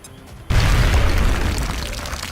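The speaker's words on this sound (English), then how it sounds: "can you just bounce a grenade on this guy" A frag grenade in XCOM: The Long War goes off with a sudden loud boom after a quiet moment, then a rumbling blast that slowly fades.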